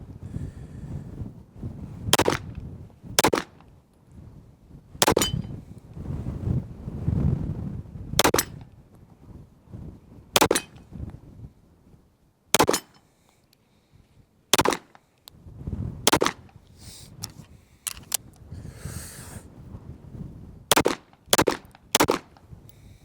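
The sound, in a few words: gunshots from SIG Sauer P226 X-Five Legion pistol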